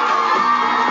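A huge crowd in Times Square in 1999, gathered for the Backstreet Boys, roars and cheers in a dense, continuous wall of high-pitched screaming.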